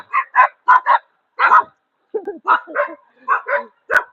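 Dogs roaming a street bark in quick bursts of two or three, with a few lower grumbling yaps between them, loud and close against otherwise quiet surroundings.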